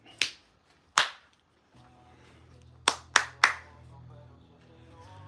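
Several sharp hand claps ring out near the microphone: two spaced claps, a pause, then three quicker ones in a row, with a faint low hum underneath.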